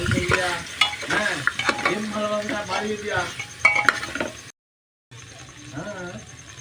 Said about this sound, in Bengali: দিয়ে বেশ কিছুক্ষণ মাংসের সাথে কষিয়ে নেবো